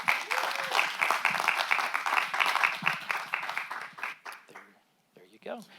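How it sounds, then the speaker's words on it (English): An audience at a Yuba City council meeting claps for visiting sister-city delegates, distinct claps at a moderate distance that thin out and stop, followed by a brief silence and a voice. "Let's give them a round of applause."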